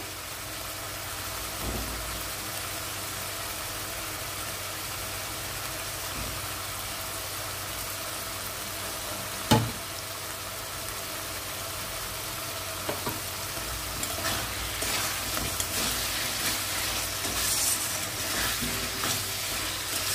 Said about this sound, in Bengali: আরও একবার ভালোভাবে কষিয়ে নেব আলুর সাথে